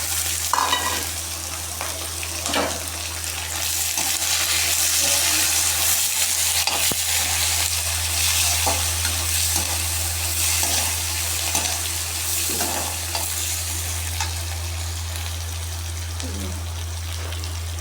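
Cumin and mustard seeds fry in hot oil for a round-cut bitter gourd dish, a steady close sizzle over a low hum, with scattered pops and clinks throughout.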